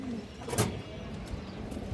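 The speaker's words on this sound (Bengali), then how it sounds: "একটা পুরান জাতের মুসলদম নর কবুতর" An old-breed male Muslodom pigeon coos once close by, a short soft throaty burst over low background murmur and faint rustling, with no talk.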